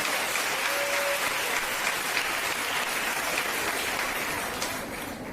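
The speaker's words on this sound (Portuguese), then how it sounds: "Aplaude se está me entendendo" A church congregation claps in sustained, dense applause that carries evenly and fades slightly at the close, with no speech over it.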